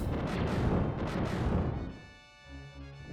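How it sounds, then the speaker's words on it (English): Explosions and fire blasts from the Sandcrawler level of the Super Star Wars video game: a loud, dense rumble of game blasts for about two seconds, then fading into synthesized music tones. "the explosions and the fire will knock you back"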